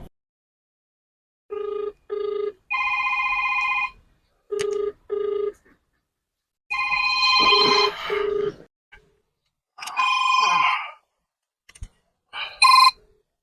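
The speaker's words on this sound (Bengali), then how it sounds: "নেতাকে ফোন করে ফোন লাগিয়ে দিতে হবে নেতাকে।" A telephone rings loud and close in a comic sketch about India's 2024 election, its bell sounding in a string of short, evenly spaced bursts separated by silence.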